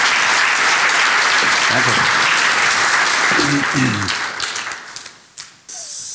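Audience applause at a German lecture on stress and resilience welcomes the speaker, a dense sustained clapping that fades after about four seconds, with a voice briefly speaking over it.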